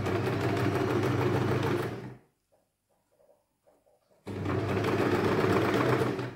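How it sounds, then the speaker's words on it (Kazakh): A sewing machine stitches netted fabric in a loud, steady mechanical whir, stopping for about two seconds of near silence before starting again at full speed. "Қолдарыңызға осылай ұстап, екі жағын реттеп тігесіздер."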